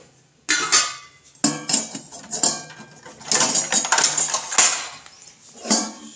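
Metal pots and vessels clatter and clang repeatedly, close and loud, in uneven bursts with brief pauses between handling.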